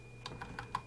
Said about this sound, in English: I'm using the cursor keys to go left,